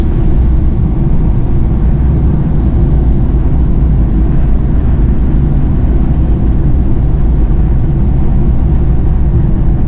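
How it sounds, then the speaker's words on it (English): A 1983 Citroen Acadiane van on the move, heard from inside the cab as a loud, steady low engine and road rumble that drones without a break, with no voices. "I already love driving this van"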